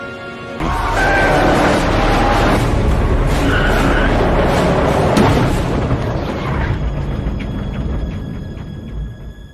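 A car on a Top Gear challenge makes a sudden loud roaring burst as a tyre lets go, then a sustained harsh noisy rumble that slowly eases off, close and heavy.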